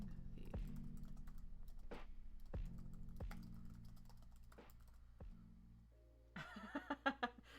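Quiet, intermittent clicks of typing on a computer keyboard, in short bursts with pauses between them, over a faint steady hum; a brief chuckle comes near the end.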